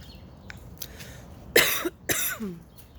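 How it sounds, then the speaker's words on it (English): Two sharp, harsh coughs close to the mic, one after the other, after a quiet stretch with faint background noise. "I had a little bit of a coughing, something stuck in my throat"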